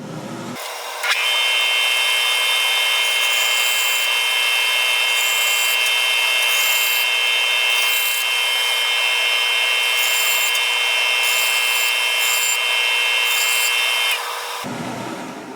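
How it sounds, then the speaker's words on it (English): A bandsaw trims the edges off a wooden dowel, its blade whining in one steady loud rasping cut for about fourteen seconds, close and alone, before the motor spins down. "So now all I'm going to do is run it through my bandsaw here and cut off some of these edges"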